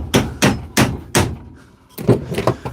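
A hammer repeatedly strikes a well-worn metal punch: four sharp, loud blows at an even pace, a short pause, then three more quick hits close up.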